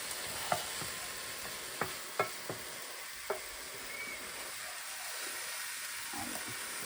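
Garlic frying in a pan, a steady soft sizzle and hiss with a few sharp clicks of a utensil stirring against the pan, close up with no talking.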